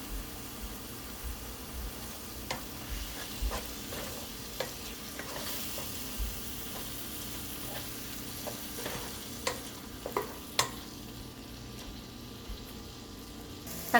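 Tomato masala with chilli powder, coriander powder, garam masala and salt being sautéed for vada curry, giving a soft steady sizzle with scattered stirring clicks and scrapes, fairly quiet throughout and with no talking.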